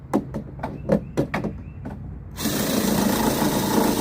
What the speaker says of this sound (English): we're gonna take the drill and undrill this side again like we did with the other side.